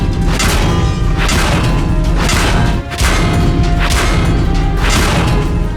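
Medium-damage hit on a tank in World of Tanks: a series of loud, heavy crashing impacts with thuddy booms, repeating roughly every second with a brief dip near the middle, played alone.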